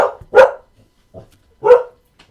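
Dogs barking in a cave as a tabletop game sound effect: two loud, sharp barks with a softer yip between them, close and clear against silence.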